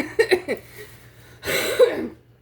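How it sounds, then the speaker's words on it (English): A few short, husky coughs, then a longer raspy cough or throat clearing, close and fairly quiet, brought on by strong red onions. "the onions are really strong, so if I'm coughing, that's why"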